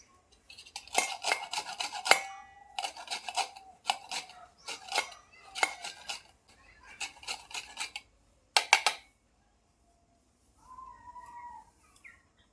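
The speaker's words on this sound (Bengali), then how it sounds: "লেবুর খোসার উপরের অংশটা নেব আমি গ্রেটারে গ্রেট করে" Gondhoraj lemon peel being rubbed on a metal grater in a kitchen, a series of rhythmic scraping bursts in close succession, then a short pause and one final quick rasp, close and crisp with no talk.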